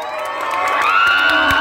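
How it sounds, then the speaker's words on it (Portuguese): A carnival bloco crowd in Conceição, Paraíba, whoops and cheers loudly and close by for a contestant. Shrill, sustained voices rise over a dense wash of crowd noise with scattered claps. "cadê as palmas pra Jéssica Magra?"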